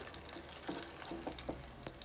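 Potato pancakes with minced meat sizzle quietly in a frying pan, a soft steady crackle with a few light scraping touches, no voices.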